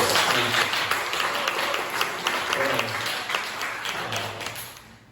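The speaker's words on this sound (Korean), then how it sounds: "우리 크게 박수로 환영하겠습니다." Loud, sustained applause from a church congregation fills the space, with dense clapping that holds steady before fading toward the end.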